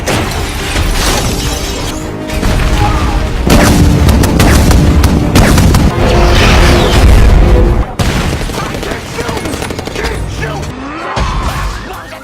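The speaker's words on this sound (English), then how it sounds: "Michael gets a lot of flack for his excessive use of explosions." Explosions in Transformers action scenes: loud, dense blasts with shattering debris and heavy booming impacts crowd one another, swelling in the middle and briefly cutting out before more crashing destruction follows.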